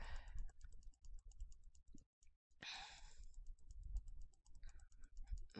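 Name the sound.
computer mouse clicking frantically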